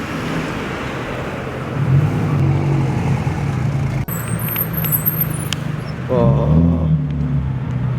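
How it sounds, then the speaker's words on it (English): Cars roll into a car meet venue in Japan, with steady engine and road noise throughout, a vehicle passing closer near the end and brief speech. "we can film cars going in and out of the venue"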